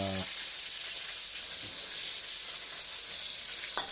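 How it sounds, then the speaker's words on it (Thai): Food sizzles steadily in hot oil, a dense continuous frying hiss that stays close and loud with little variation throughout, with a brief voice at the very start. "นี่เป็นการทอดนะครับ"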